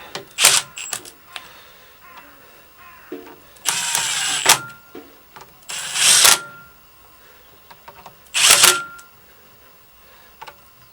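A torque wrench ratchets on 17mm engine bolts in a VW Transporter T4, giving several short, sharp metallic clicking bursts spaced a second or two apart, close by, with quiet pauses between.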